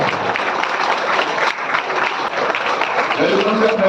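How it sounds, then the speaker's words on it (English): A conference audience on innovation in IoT, robotics and automation rises in a standing ovation for a professor, producing dense, loud applause that holds steady for the whole stretch, with a voice surfacing faintly near the end. "With a huge round of applause."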